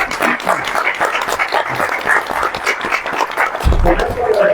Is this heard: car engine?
no